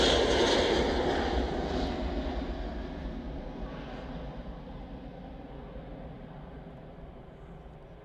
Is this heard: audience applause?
no